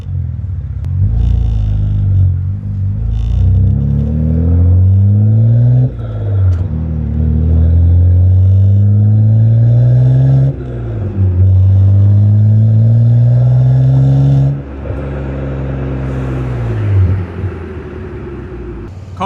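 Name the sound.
BMW G80 M3 with IRL exhaust, valves closed, comfort mode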